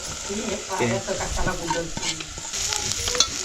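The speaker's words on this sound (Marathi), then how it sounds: "कांदा मस्त फ्राय झालाय तर भाजी घालूया" Vegetables, four-edged ghevda beans, tossed into fried onion in a pan over a wood-fired village stove, sizzling loudly with scraping stirring strokes throughout, no talk.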